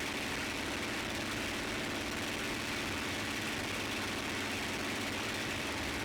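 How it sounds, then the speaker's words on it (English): A P-51 Mustang fighter engine runs at steady power during a ground run-up, a loud, even, unbroken drone with a constant throbbing texture heard close and alone. "Listen to the engine."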